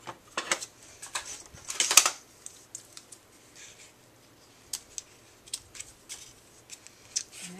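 Scissors snip through ribbon for a birthday card, a few sharp close crunches and clicks scattered among quieter handling taps, with one louder cut near the start.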